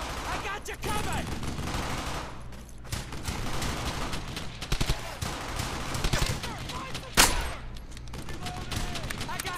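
Bursts of automatic and single gunfire from a powerful gun in the video game Brothers In Arms: Hell's Highway, heard in busy clustered volleys with a sharp loud shot near the end, over a dense battle backdrop.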